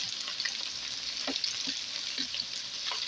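Onions frying in butter in a pan beside hamburger patties, a steady close hiss with small crackles and pops throughout, no voices.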